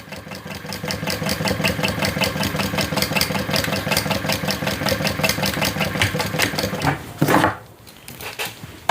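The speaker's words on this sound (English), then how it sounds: "I'm just doing the top stitch at about at 1/8 of an inch inseam" A sewing machine runs close and steady, top stitching a 1/8 inch seam on a sling bag, its rapid even needle rhythm continuing for about seven seconds before slowing and stopping, with brief handling sounds after.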